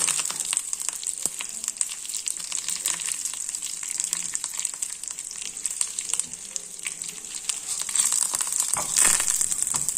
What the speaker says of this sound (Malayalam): രണ്ട് മുളക്, വറ്റൽ മുളക് ഇട്ട് കൊടുക്കാം. ഒരു തണ്ട് കറിവേപ്പില ഇട്ടു.